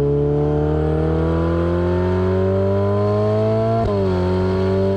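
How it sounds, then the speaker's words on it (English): A Ferrari 488 Pista Spider's turbo V8 drones loud and steady with a deep, throaty bellow, the revs climbing gradually before a brief dip and recovery. "This has more of that V8 turbo bellow that you get from the F40"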